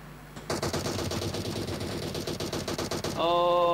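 Enemy gunfire in a video game, a rapid automatic burst of sharp shots rattling in quick succession for nearly three seconds, then ending in a tonal electronic beep, with no talk.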